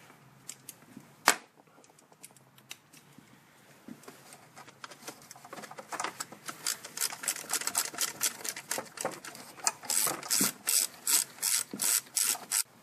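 Rapid ratcheting and scraping as a wrench loosens the four 8mm bolts on the throttle body of a 4-cylinder Ford Focus or Escape, close up, growing faster and louder toward the end.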